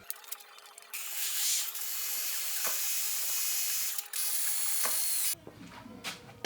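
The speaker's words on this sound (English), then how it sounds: "and then I drill right there" Drilling a hole in a metal dash tab on a Honda VFR motorcycle, a steady high grinding whine lasting several seconds with brief dips as the bit bites, then it stops and a few faint handling noises follow.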